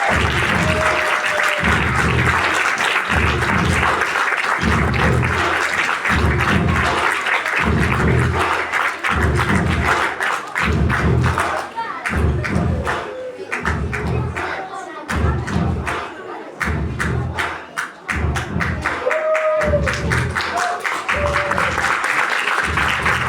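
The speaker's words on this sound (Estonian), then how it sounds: "Järgmisena ka suure aplausi saatel kutsume lavale" Audience at a school playback show awards ceremony in Estonia applauding loudly, with rhythmic clapping and thumps sustained for over twenty seconds and a few crowd voices mixed in.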